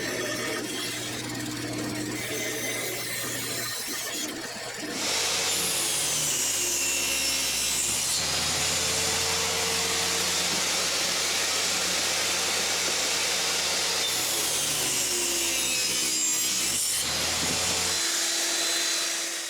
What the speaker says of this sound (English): Just cut it out on the bandsaw and it's ready to go.